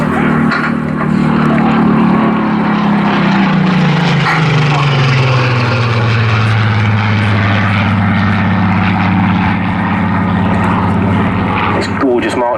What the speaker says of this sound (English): You'll hear the power plant of the Griffin engine of this Mark 19